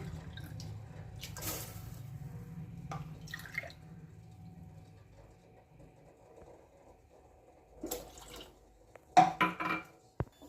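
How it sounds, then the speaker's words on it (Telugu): Milk is poured into simmering ginger, jaggery and masala tea, giving quiet, close liquid trickles and drips with a few soft splashes and a brief, louder burst of splashing near the end. "అల్లం బెల్లం టీ 3 కప్స్ మిల్క్ యాడ్ చేస్తున్నానండి."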